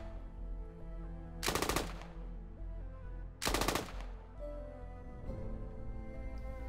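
Automatic gunfire in the video game Squad, two short loud bursts of rapid shots about two seconds apart over a low ambient hum and faint game sounds.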